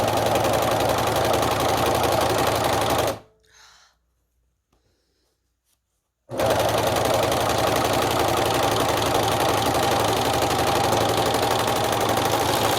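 Serger sewing machine stitching the long side of layered fabric face masks, whirring loudly and steadily for about three seconds, falling silent for a few seconds, then running on at the same steady drone.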